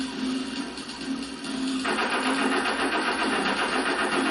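Plane engines in the Crash Bandicoot Warped video game drone steadily, a mid-pitched buzzing hum that swells and thickens partway through, loud and continuous with no talk.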